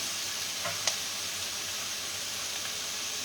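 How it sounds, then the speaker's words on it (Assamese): Sliced cucumber fries in a pan to wilt, giving off a soft, steady sizzle with one sharp click of a utensil early on and no talking. "অকণমান সময় বাৰু মই মৰহি যোৱাকৈ ভাজি ল'ম তিয়ঁহখিনি।"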